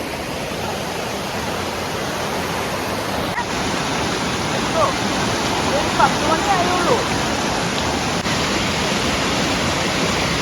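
The river at Vadattupara rushes loudly and high with water, making a dense, steady roar that fills the scene. A voice speaks briefly over it.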